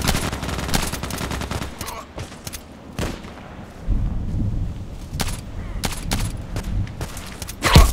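Gunfire in the shooter Contract Wars crackles as sharp, scattered shots and short bursts over a rumbling backdrop, close and loud, with some quieter gaps between volleys.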